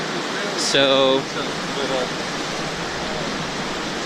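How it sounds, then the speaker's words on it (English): A waterfall in Yellowstone gives a steady, broad rushing roar that stays even throughout, with a brief spoken word near the start. "there's a waterfall right there"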